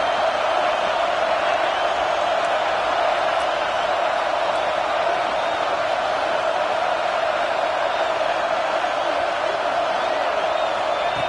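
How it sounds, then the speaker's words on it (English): College football stadium crowd roars in a constant, dense wash of noise in a tough road environment, with a commentator's voice running over it throughout. "Listen to the crowd energy here in the early going."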